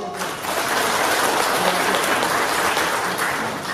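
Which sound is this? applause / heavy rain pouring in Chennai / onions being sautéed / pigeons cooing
applause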